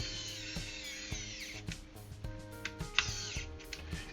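A small rechargeable electric screwdriver driving screws into a WLtoys A959B RC car during a metal upgrade, its high whine rising and falling in short runs, close and fairly quiet, with light clicks of bits and parts between bursts.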